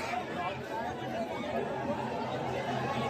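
A dense crowd chatters at the Varsuai Aai Jagran festival in Pen Vashi, with a steady, loud wall of overlapping voices close around and no single voice standing out.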